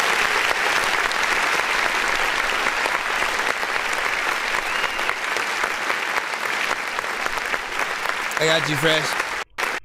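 Loud, continuous clapping from a crowd of people fills nearly ten seconds, steady and dense, with a brief spoken voice near the end as it cuts off.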